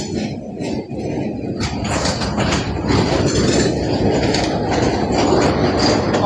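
A train engine, PHA 28311, rolls loudly through Rawalpindi railway station with a continuous rumble and rattling wheel clatter that stays close and strong throughout.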